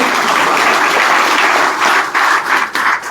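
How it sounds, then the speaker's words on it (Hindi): A crowd applauds loudly to welcome Chaudhary Sampat Singh, with steady dense clapping that thins into scattered claps toward the end. "चौधरी संपत सिंह जी, एक बार जोरदार ताली बजा के इनका स्वागत करें"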